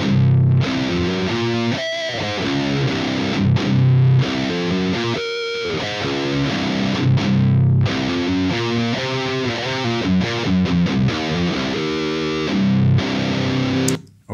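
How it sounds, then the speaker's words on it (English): Electric guitar with the Sound of God EQ2 tone, recorded direct through a Suhr Reactive Load with an impulse response, plays heavily distorted chords and riffs, loud and continuous, with brief gaps between phrases. "So now let's use Suhr direct out and impulse response at it afterwards."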